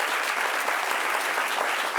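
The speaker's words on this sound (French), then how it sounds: "Applaudissements pour vous-même" Studio audience applauding a French talk show, a steady dense wash of many hands clapping throughout, loud and close with no talk over it.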